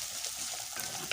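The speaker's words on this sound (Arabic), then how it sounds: "وحطيت معلقه كبيره من السمن، وحطيت بصلايه كبيره" A large onion sizzles steadily in a spoonful of hot ghee in a pot, a close, even frying hiss with a faint utensil tap near the end.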